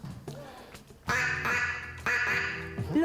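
A musical instrument imitates a duck's quack during a children's music activity: two loud, nasal honking bursts, each lasting about a second, with quieter sounds before them.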